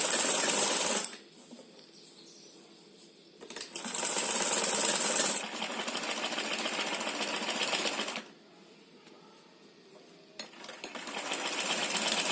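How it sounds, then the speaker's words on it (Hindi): Sewing machine stitching a dress made from an old saree, running in bursts of rapid whirring stitches separated by brief quiet pauses, loud and close. "इसके ऊपर सिलाई लगाएंगे।"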